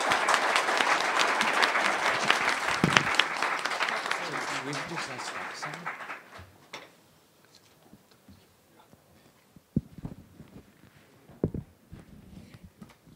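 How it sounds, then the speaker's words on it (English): Audience at a Rakuten tech conference applauds loudly for about six seconds after lightning talks, then the clapping thins to a few scattered claps and quiet room noise. "Let's have a round of applause one more time for all of the speakers."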